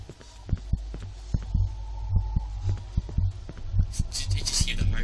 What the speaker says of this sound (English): Did you just hear the heartbeat?